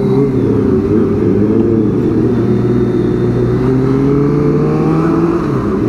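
A big vehicle passes close by on a night road while a ZX25R motorcycle rides, its loud engine drone holding steady tones that bend gradually as it goes by, with no talking.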